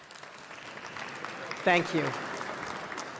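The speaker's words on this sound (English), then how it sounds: "Would you join me in giving them a warm round of applause" A warm round of applause fills a stage hall at a leaders' signing ceremony for an offshore wind and hydrogen declaration, steady clapping throughout while a voice briefly speaks over it.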